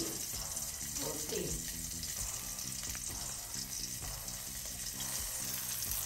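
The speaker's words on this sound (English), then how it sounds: "I'm trying to just sear it in a really hot pan, a lot of oil." Fish searing in a very hot pan with plenty of oil gives a loud, continuous hiss and sizzle that fills the whole stretch, with faint kitchen clatter underneath.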